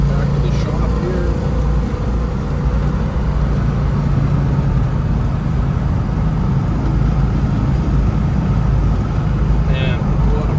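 A 1972 Plymouth Roadrunner engine drones steadily at a low cruising rumble while the car drives along, with a voice talking over it throughout.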